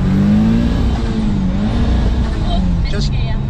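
A 400 bhp Ford Escort RS Cosworth engine drones loudly and continuously under boost from inside the car, its pitch rising and dipping slightly, with people talking over it.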